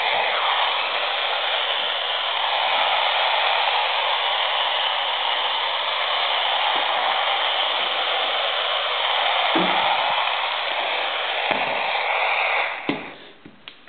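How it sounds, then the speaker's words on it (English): Steady broadband hiss of AM radio static, the receiver tuned to 530 with no station, filling the clip at an even level for about thirteen seconds before cutting off near the end with a few small clicks. "all we can hear on the radio is static"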